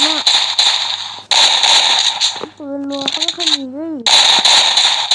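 Automatic gunfire in a 4v4 match of the Free Fire mobile game comes in loud, rapid bursts that break off briefly while a voice speaks, then resume.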